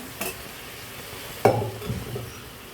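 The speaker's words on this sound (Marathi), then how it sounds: "बघा आता मस्त असं परतून घ्यायचं" Mutton pieces being stir-fried in a pan, with a light scrape near the start and a louder clatter of spoon against pan midway, followed by low sizzling and stirring with no voice.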